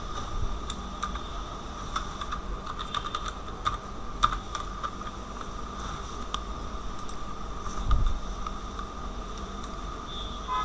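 Computer keyboard typing in a quiet room, a steady run of soft, uneven key taps with a few sharper clicks and faint fan hiss underneath.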